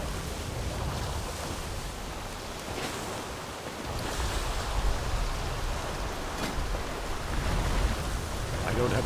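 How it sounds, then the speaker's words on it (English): Steady rain falling in World of Warcraft, a dense even hiss holding throughout with slight swells, under faint game ambience. "Something about this rain doesn't feel right."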